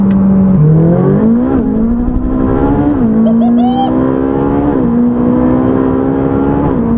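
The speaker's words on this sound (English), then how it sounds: "I think we'll just roll the sound and gear shifts into one." Ferrari 458 Speciale V8 engine held at a loud, steady drone that climbs and dips with revs, with quick dual-clutch gear changes marked by brief steps in pitch, close and continuous throughout.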